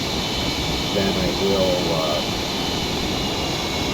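An F18 jet engine in Microsoft Flight Simulator 2020 spools down at low power during a low-altitude flight, a steady broad roar and whine running under someone speaking.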